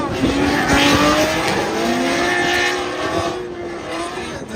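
Loud, continuous engine noise from drift cars revving and circling on a track as they warm up their tires, with rising and falling whines and faint tire squeal throughout.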